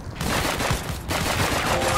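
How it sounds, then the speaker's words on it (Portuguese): Rapid video game gunfire in a street shootout, dense bursts of shots crackling continuously and loudly for about two seconds with no talk over them. "muito tiro aqui na quebrada"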